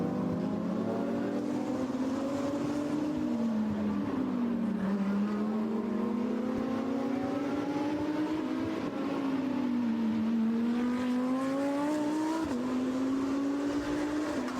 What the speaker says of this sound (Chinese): 这里是王一博驾驶赛车的第一视角